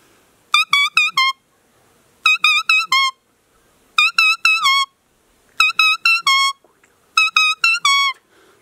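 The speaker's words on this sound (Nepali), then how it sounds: "काफल पाक्यो," A musical car horn sounds the 'kafal pakyo' cuckoo call. Five loud, crisp phrases of quick four-note bursts repeat with short pauses between them, with no other sound.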